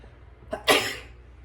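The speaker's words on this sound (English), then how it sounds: "I'm going to sneeze." A single sharp sneeze with a short intake breath just before it, loud and close, followed by quiet.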